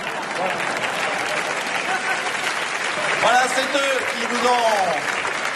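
Theatre audience at a live comedy show applauds steadily throughout, a dense even wash of clapping, while someone speaks over it in the middle and toward the end.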